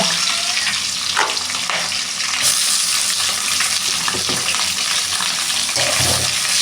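Medium-sized chopped onions fry in a pan for chicken sukka, a steady close sizzle with soft stirring scrapes throughout and no talk.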